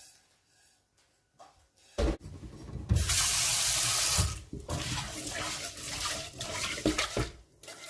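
Rice being rinsed by hand under a running kitchen tap for a Mahoran rice soup, with water gushing loudly into the bowl amid sloshing and stirring, stopping and starting across several seconds.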